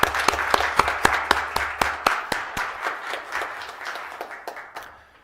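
A school board meeting audience gives a round of applause: a short burst of distinct, sharp claps ringing out over softer clapping, which thins and fades away toward the end.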